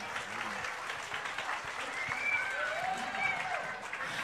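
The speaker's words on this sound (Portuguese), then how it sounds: "Palmas." An audience at a book launch applauds continuously, a moderate, even wash of clapping with faint voices mixed in beneath it.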